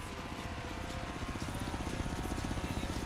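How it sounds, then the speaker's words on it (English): A Chinook helicopter flies in the Forza Horizon racing game, its rotors giving a steady rhythmic thudding chop over an engine roar that grows slightly louder, without any speech. "Chinook, that was the helicopter name I wanted."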